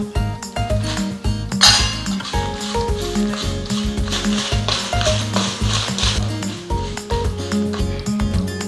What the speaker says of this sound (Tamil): உப்பு வறுத்துக்கலாம் அது கூடவே நம்ம வரமிளகாயும் சேர்த்து வறுத்துக்கலாம்